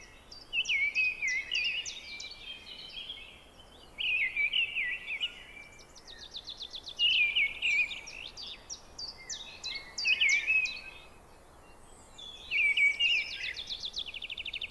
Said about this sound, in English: The mistle thrush is one of the first singers in the year.